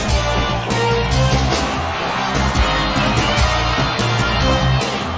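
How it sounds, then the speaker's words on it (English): A wrestling crowd at a street-fight event cheers and yells loudly and steadily, a dense roar of many voices that holds throughout. "Crowd definitely getting behind Mike Majors."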